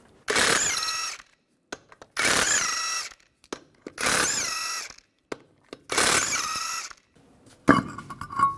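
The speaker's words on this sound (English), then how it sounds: "Take these hubcaps off and then take the lug nuts off." A powered socket tool whirs as it spins lug nuts off the wheel of a 2005–2010 Chevrolet Cobalt, four loud, even bursts each about a second long, separated by short pauses with small clicks, all close by.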